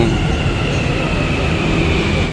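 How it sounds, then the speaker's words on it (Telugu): A Hyderabad metro train pulls into a station with a loud, steady rumble and a sustained high whine of wheels and motors. The noise holds evenly for two seconds, then cuts off abruptly. "ఆచి వేచి ఉన్నటువంటి మెట్రో వచ్చేసింది"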